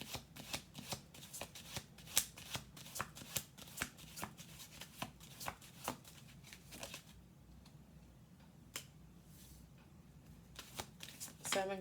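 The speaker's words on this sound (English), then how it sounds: "We're going to do 2 more shuffles." Tarot cards being shuffled by hand, close and crisp, in a steady run of quick riffling slaps that pauses briefly and then resumes, with soft speech faintly underneath.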